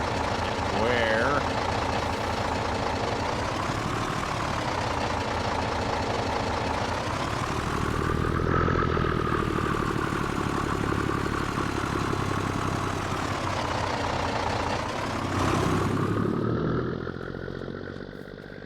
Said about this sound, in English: I forget how loud that truck is sometimes.